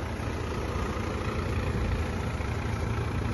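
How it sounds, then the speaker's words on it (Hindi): A Mahindra Yuvo Tech Plus 405 tractor engine works steadily while ploughing soil, giving a continuous low, rumbling drone with even loudness and no talk. "महिंद्रा योटेक प्लस 405 मिट्टी को चीरता हुआ"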